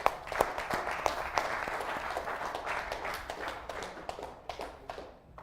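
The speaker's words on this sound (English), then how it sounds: "Can we give him a round of applause, please?" An audience at a public speaking boot camp session applauds, a crowd of clapping hands with scattered sharper claps standing out, heard from a moderate distance and gradually thinning toward the end.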